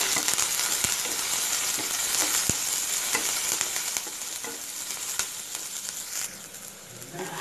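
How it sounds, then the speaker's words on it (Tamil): Onions and curry leaves sautéing in a pan, a steady broadband sizzle with scattered stirring clicks and scrapes throughout, close and fairly loud, easing slightly toward the end. "இது சேர்த்து நல்லா வதக்குறோம்."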